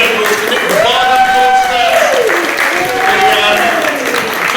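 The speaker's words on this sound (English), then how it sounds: "Big round of applause to Nick the Bard" Audience applause at a poetry evening at The New Poetry Shack, a steady clapping wash mixed with cheers and voices talking over it, sustained and fairly loud throughout.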